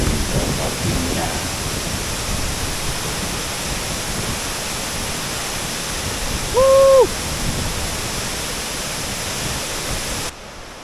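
A waterfall in northern Lombok roars as a steady, loud, broadband wash, with a brief tonal tone midway before it drops off at the end.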